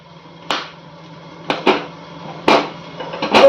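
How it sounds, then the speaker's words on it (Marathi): A corn cob roasting nearby cracks and pops in sharp, loud bursts, about five of them at irregular intervals a second or so apart, over an otherwise quiet background with a faint hum. "जो फट फट असा आवाज येतोय तो ह्या कणसाचा आवाज येतोय."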